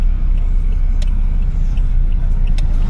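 Car driving on a road in Tarlac, a steady loud low rumble of engine and tyres from inside the vehicle, with a couple of faint brief clicks and no talking.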